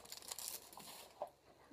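Plastic blind bag wrapping is torn and crinkled close up, a quick faint burst of crackling and rustling with small tearing snaps, no talking.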